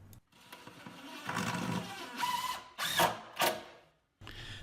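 Power drill driving 1¼ inch GRK cabinet screws into a miter station, with several whirring bursts of varying length separated by brief pauses, close and fairly loud.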